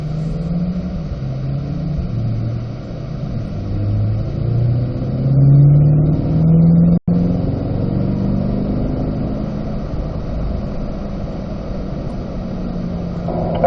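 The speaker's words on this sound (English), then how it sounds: "we'll upshift back to fourth gear" A Corvette C8 pulls hard on a racetrack after an upshift to fourth gear, its engine note rising loud and steady with a brief dropout near the middle, and nobody speaking.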